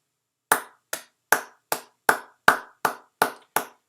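Single pair of hands clapping slowly and deliberately, nine or ten sharp, close claps spaced about half a second apart with silence between them.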